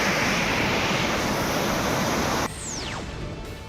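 Heavy river water rushing out through barrage gates during a large release, a loud steady roar of wide broadband noise that suddenly drops in level midway and carries on more softly, with no talk.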